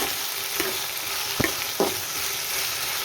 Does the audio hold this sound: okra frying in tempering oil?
yes